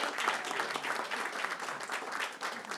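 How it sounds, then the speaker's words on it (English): Applause from the audience at a school board meeting honoring Heritage High School staff, a steady patter of many hands clapping throughout, moderately loud and without talk. "So give them another round of applause."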